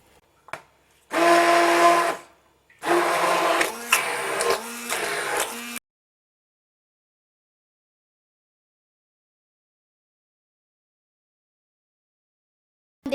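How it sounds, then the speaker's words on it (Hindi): An electric hand beater whirs loudly through sugar, mayonnaise and cream for a Russian salad, in two bursts of about a second and three seconds separated by a short pause, then stops and leaves silence. "बीटर की मदद से बीट कर लेंगे"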